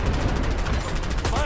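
Gunfire in the Dirty Bomb shooter game: steady, dense automatic fire throughout a short stretch, loud and close, mixed with other battle noise.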